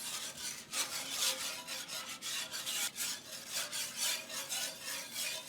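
A whisk scrapes browned meat bits off the bottom of a gravy pan, a close, rhythmic raspy rubbing in quick repeated strokes, with no talking.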